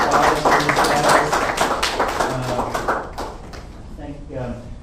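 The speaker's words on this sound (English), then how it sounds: "Round of applause for these guys." Applause from a presentation audience at a bio-guided music therapy event in Athens, a dense patter of clapping that fades over a few seconds, with voices murmuring underneath and a brief bit of speech near the end.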